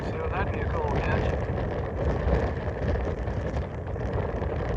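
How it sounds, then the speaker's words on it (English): Gusty wind buffets the microphone outdoors beside a Union Pacific rail line near Janesville, Wisconsin, a loud, rough roar that fills the whole stretch with no clear pauses. "Man, it's windy."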